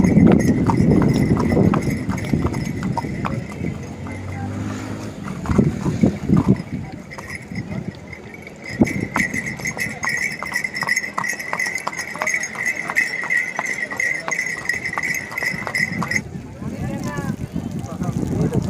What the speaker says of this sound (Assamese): ঘোঁৰাটো উঠি ল'লোঁ অলপমান ফুৰিলোঁ